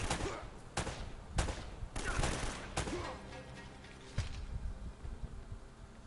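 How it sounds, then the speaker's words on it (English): Pistol ledge shooting in Uncharted: Drake's Fortune, several sharp, separate gunshot cracks spaced about half a second to a second apart over in-game ambience, fading into a quieter rumble with one more shot near the end. "You can do ledge shooting."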